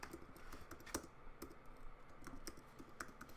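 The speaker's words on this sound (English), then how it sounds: "Sorry for my slow typing." Soft, irregular keyboard clicks tap away quietly, a few keys at a time with short pauses, close by and without speech.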